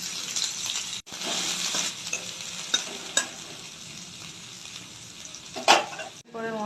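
Onions frying in hot oil with spices in a pan for a shrimp paste dish, a loud continuous sizzle with scraping stir strokes, a brief cut near the start and a sharp clatter toward the end.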